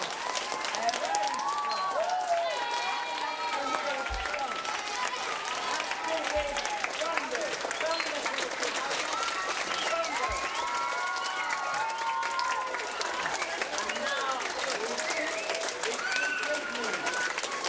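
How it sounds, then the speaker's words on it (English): A school audience applauds its teachers with sustained clapping and some cheering, steady and fairly distant throughout, with a few low thumps scattered in. "we're going to give them a very strong round of applause"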